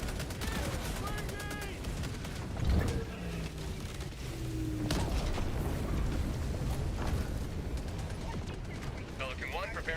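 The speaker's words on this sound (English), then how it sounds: "Pelican 1 preparing to depart. Shuttle launch in 20 seconds." In the Helldivers 2 video game, the Pelican 1 dropship rumbles through its departure amid bursts of gunfire and heavy booms, with a deep mechanical roar under the action and a voice speaking over it.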